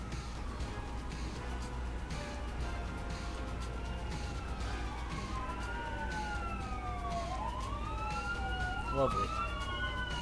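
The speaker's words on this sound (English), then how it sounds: "And police sirens outside." Police sirens wail outside, their rising and falling tones sweeping through the second half under a steady background hum, moderately distant, with a brief spoken word over them.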